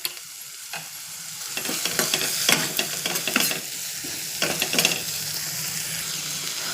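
Asafoetida, turmeric and chili powder fry in a hot pan for a meal maker and sorrel leaves curry, sizzling loudly with repeated scraping stirs close by, no talking.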